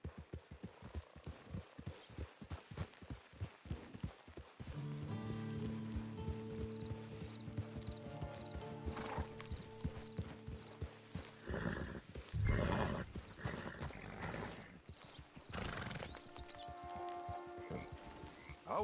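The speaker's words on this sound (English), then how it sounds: "It's your horse." A horse in Red Dead Redemption II, heard first in a run of rhythmic hoofbeats, then in several loud whinnies and snorts close up, with softer ambient game sounds behind and no voices.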